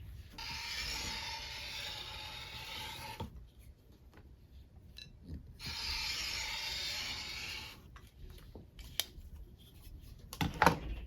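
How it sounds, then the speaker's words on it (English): Two long bursts of rapid, hissing snipping as scissors trim fabric seam edges, each lasting about three seconds, separated by quieter handling noises and a few clicks near the end. "Why have I been trimming these with scissors the whole time?"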